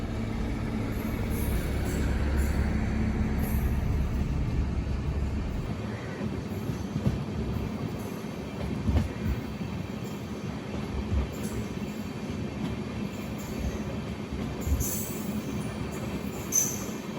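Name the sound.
Amrit Bharat Express train running on the line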